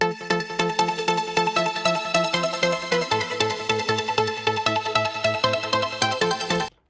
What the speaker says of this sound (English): I found this loop, which is a pluck loop